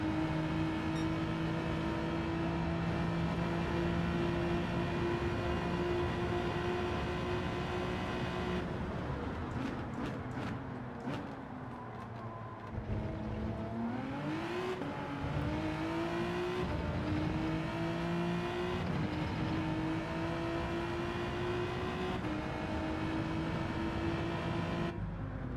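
Race cars roar around the track in a Gran Turismo 7 daily online race, including a Subaru WRX, with steady loud engine drone and rising and falling pitch as cars shift and accelerate, continuous throughout.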